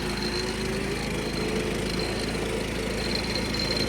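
A 1976 John Deere 300 riding lawnmower runs with a steady, loud, close engine drone, holding an even rhythm throughout with no talk.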